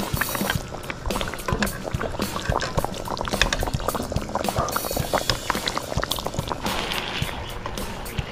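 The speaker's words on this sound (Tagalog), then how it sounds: "Hintayin lang natin ma-reduce yung sabaw para mas lalo pa siyang lumasa." Pork belly braising liquid with pineapple juice bubbles and reduces in a pan, a steady close simmer of dense popping and crackling bubbles that continues unbroken throughout.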